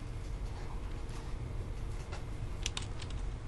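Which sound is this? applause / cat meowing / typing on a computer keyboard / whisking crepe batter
typing on a computer keyboard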